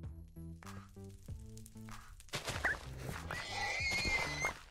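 Horse in the Minecraft SevTech: Ages of the Sky modpack gives a couple of neighs and whinnies, the second half busier with a sizzling wash, set against steady game music with harmonic tones in the first half.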